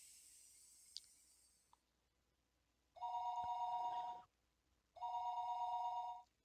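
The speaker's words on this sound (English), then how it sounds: "The phone rang for a third time." A telephone bell rings twice in the Higurashi visual novel game, each ring a steady buzzing tone lasting about a second. Brief silence separates the rings, and faint earlier sounds precede them.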